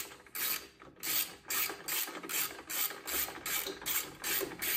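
A hand ratchet tightening bolts on a motorcycle bracket during a Road Glide bagger accessory install, giving repeated rhythmic bursts of clicking pawl ratcheting, close and fairly loud with short gaps between strokes.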